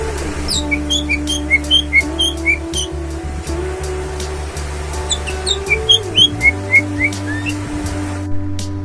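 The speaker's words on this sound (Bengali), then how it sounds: "পাখিটি উড়ে বসলো ঝুড়ির ওপর তারপর সে পরিচিত কণ্ঠে শীষ দেয়া শুরু করলো" A common myna whistles and chirps in quick bursts of bright, rising notes over a steady low mechanical hum, pausing briefly before a second run of calls.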